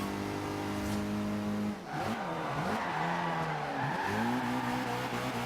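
A Nismo car drifts in Forza Horizon 2, its engine revving with pitch sweeps up and down while tires squeal through the slides, loud and continuous with no talk.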